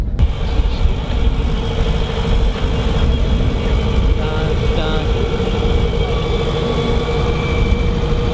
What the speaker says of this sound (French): Vous allez voir, c'est un tracteur autonome.